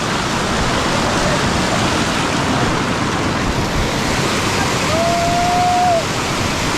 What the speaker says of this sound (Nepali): यो लुङ्गी खोला भनिन्छ